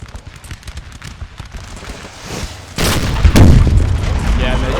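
Musket volleys and artillery fire in the Napoleonic strategy game Napoleon Total War, at the 1812 siege of Valencia: a low rumbling din that swells into loud, booming blasts partway through, with a voice talking faintly beneath.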